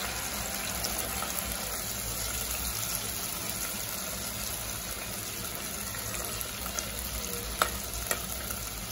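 Green chillies, curry leaves and spices frying in oil for a gram-flour pithla, a continuous loud sizzling hiss with faint stirring taps near the end and no voices.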